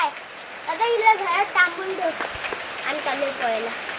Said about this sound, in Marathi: पाऊस जोरदार आहे